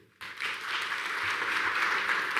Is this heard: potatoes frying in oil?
no